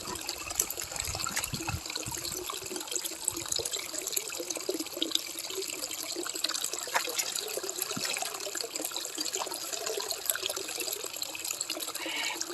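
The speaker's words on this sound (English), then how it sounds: "Actually, let me get a drink of water first." Water runs steadily from a tap or spout on a mountain outing, a continuous close trickling gush with small splashes, no voices.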